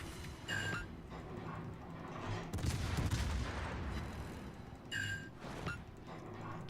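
Warship guns fire armor-piercing shells in World of Warships, with a few sharp booming salvos separated by a rumbling battle backdrop, heard near and fairly loud.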